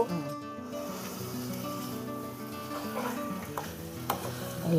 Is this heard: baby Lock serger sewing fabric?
no